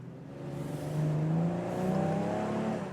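An engine revving after a downshift in Sport Plus mode on a climbing road, a rising harmonic drone heard from inside the cabin, steady and moderately loud with pitch sweeping upward.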